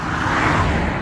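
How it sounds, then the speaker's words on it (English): Steady road traffic rumbles close by along a road leaving the town of Crestview on the Florida Trail, a continuous broadband wash of passing car noise with no break. "sorry for the traffic noise"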